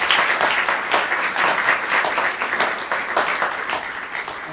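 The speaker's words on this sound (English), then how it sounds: "Please clap your hands for them." Audience applause at a jazz concert by an Italian all-star band in New York, a dense, steady wash of many hands clapping throughout, loud and sustained.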